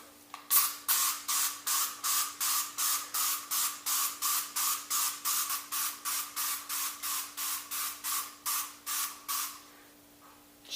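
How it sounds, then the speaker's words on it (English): Rapid series of aerosol cleaner spray bursts on aluminum car parts, about twenty short hissing puffs in steady rhythm, close and loud, with no talking. "Shake, spray, wipe, it says."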